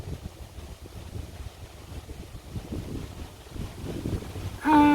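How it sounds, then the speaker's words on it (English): Wind blowing outdoors, a steady buffeting rumble that hits the microphone throughout, with a louder tonal sound cutting in briefly at the very end. "So windy."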